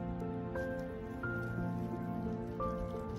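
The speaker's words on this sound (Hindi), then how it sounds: "अब मैं इसमें पानी डाल रहा हूँ, देखिए गर्म करके लेके आया था पानी में घर से" Hot water brought from home is poured into a Japanese cup ramen, giving a steady, close splashing patter like rain on a surface, with background music running underneath.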